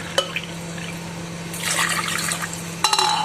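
Water poured into a pan for sugar syrup, a short splashing pour midway between faint drips and clinks in a quiet kitchen.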